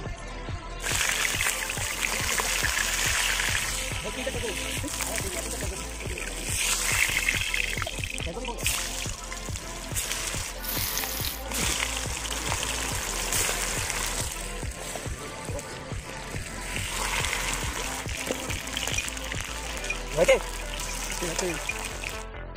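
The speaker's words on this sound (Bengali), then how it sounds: "ভাতের জল বের করা হচ্ছে, বের করে এই জলগুলি" Starchy water drains and trickles steadily from a pot of cooked rice at an outdoor village cooking spot, a continuous splashing pour with people talking over it.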